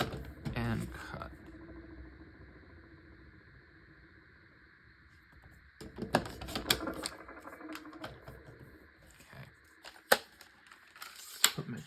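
A paper trimmer slices scrapbooking paper, with short sliding and cutting scrapes up close and light clicks and paper handling between strokes.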